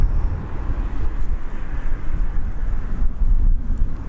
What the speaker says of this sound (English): Swing you around for the EasyJet arrival